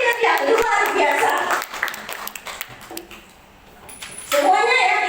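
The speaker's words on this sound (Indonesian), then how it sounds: "Beri tepukan untuk leader-leader yang luar biasa" Audience clapping for leaders at a gathering, moderately loud at first, thinning into scattered claps and fading near silence before a fresh burst of clapping returns at the end.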